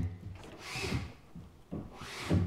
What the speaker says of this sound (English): Sorry about that noise, it's the plasterer.